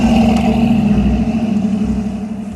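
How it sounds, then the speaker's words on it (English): Car pulling up at a wedding venue, a steady close engine drone with low rumble that slowly fades a little, no voices. "And with this car getting into the venue"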